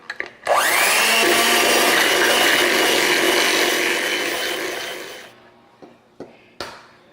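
An electric mixer creams butter, cream cheese and vanilla for low-carb blueberry muffins, a loud close whirring drone that starts abruptly, holds steady for several seconds, then cuts off, followed by a few faint clinks and knocks.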